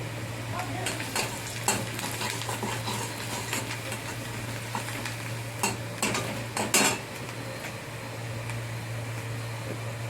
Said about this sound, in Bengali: নুনটা দিয়ে একটু ভালো করে নেড়ে চেড়ে নিচ্ছি।